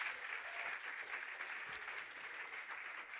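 Students applaud at the end of an essay-writing class, an even wash of clapping that sounds distant and faint, steady for a few seconds.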